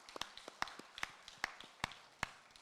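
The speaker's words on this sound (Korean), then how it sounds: "우리 감사하다고 박수하겠습니다." A small church congregation clapping in thanks during a Sunday service, a brief scattered patter of hands with sharp uneven claps lasting a few seconds.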